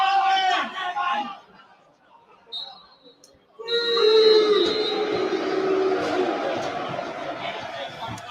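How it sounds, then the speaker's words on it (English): Football crowd at a Millwall versus Reading Championship match booing at half time, a broad sustained roar of jeers swelling loudly after a quieter stretch of nearby talk, continuing to the end. "The boos ring out."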